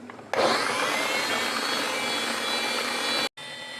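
An electric mixer whips egg-white protein cream for a sponge cake, a loud continuous motor whine that starts abruptly, holds steady for about three seconds, cuts out briefly and then resumes.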